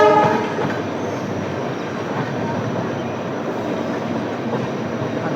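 Train 19203 hauled by a WDP4B diesel locomotive pulls into Keshod station, a loud steady rumble of rolling coaches and engine noise close by, continuous with no talk.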